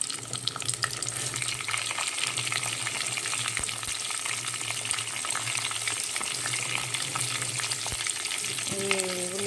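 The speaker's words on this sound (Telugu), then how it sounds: "కావాలంటే మనం ఆయిల్ వేసి వేయించుకుందాం." Onions frying in oil while making gongura pachadi, a steady dense sizzle and crackle running without pause, with faint occasional clinks and no talk.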